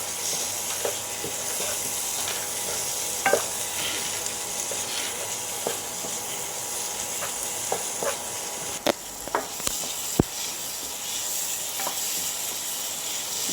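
Home-ground masala powder sizzles in an oil-filled pan for a prawn gravy, a steady frying hiss broken by scraping clicks and taps of a spoon stirring at intervals, close and fairly loud with no talk.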